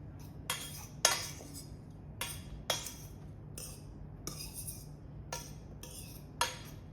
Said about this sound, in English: we're gonna mix it once again to make sure it's like coated completely